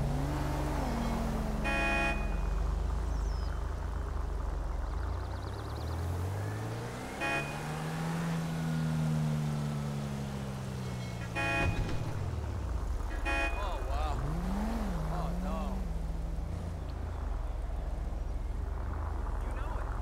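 A Suzuki Swift car driven in GTA 5, engine humming steadily with rising and falling pitch sweeps as it accelerates and shifts, a couple of short horn-like blips, under continuous talking.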